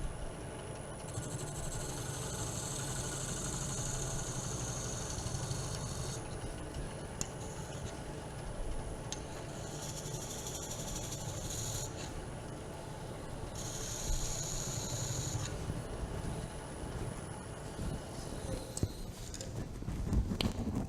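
Wood spins on a lathe while a spindle gouge works a small button off the piece, a continuous low machine drone with intermittent hissing cutting passes and light ticks at a live turning demonstration.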